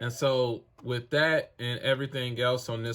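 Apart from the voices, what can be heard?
No distinct noise like a dog, phone or traffic.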